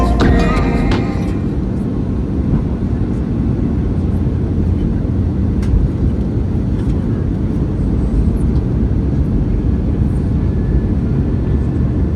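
Aer Lingus Airbus A320neo cabin on final approach to Heathrow, filled with a loud, steady low roar of engines and airflow throughout, with faint cabin announcements beneath.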